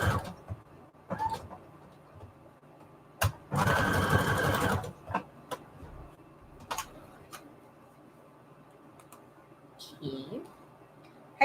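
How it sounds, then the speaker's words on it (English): A sewing machine stitches a very wide zigzag over fabric scraps on a junk journal tag in one loud burst of about a second, between quieter handling clicks and taps, with a voice speaking at moments. "Just the most ridiculous wide zigzag stitch you've ever seen in your life here."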